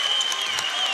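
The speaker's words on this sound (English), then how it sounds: "I didn't realize how good of a crowd we had until this applause started to take place." Steady applause from a sizable crowd filling a high school basketball gym during a tight late-game moment, a dense even wash of clapping sustained throughout.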